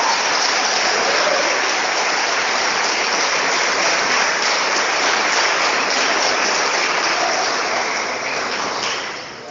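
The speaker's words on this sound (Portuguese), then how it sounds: "Você pode aplaudir o Senhor por essa palavra?" A church congregation applauds in a broad, sustained wash of clapping, loud and even throughout before fading slightly at the end, with no talk over it.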